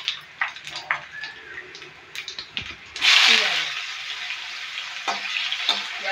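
Onions tossed into hot oil already spitting with cumin, fenugreek and mustard seeds, scattered pops and clicks, then a loud sudden hissing sizzle that settles into steady frying.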